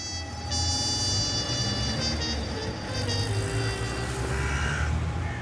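Carrion crows caw in Hamburg above a steady roar of city traffic and a distant engine drone, with harsh calls repeating at moderate distance through the clip.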